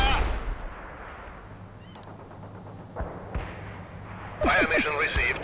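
Mobile mortar artillery firing in the Soviet assault campaign of World in Conflict, a few sharp distant thumps and bursts over a steady battlefield rumble, with radio-style voices and clattering effects rising near the end.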